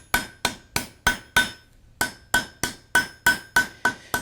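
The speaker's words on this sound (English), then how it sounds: "giving it just a little bit of hammer texture on this top side" A hammer strikes a forged barbecue spoon on the anvil in a steady run of sharp, ringing metallic blows, about three per second with one short pause, close and alone.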